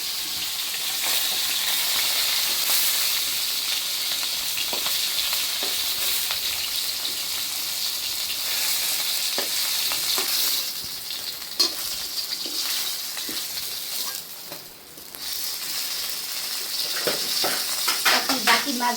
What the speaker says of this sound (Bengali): এই মাছ একটু ভালো ভাজা নইলে স্বাদ লাগে না